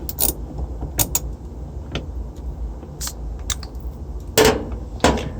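A ratchet fitted with an extension works loose the agitator bolt on an Inglis/Whirlpool-type washing machine. It gives sharp, uneven clicks and knocks with pauses between them, close to the microphone over a quiet room.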